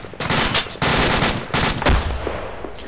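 Heavy, continuous automatic gunfire in ARMA 2, loud and close, with dense overlapping bursts of rapid shots and short gaps between them.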